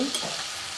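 Tempering sizzling in a pan for upma, a short burst of dense hissing and crackling heard up close with no voices.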